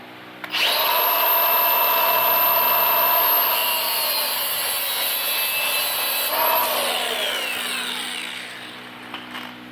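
A loud angle grinder spins up and cuts through a steel-braided hose on a Barra Maverick car, giving a sustained high whine that shifts pitch partway through and then winds down, close and alone.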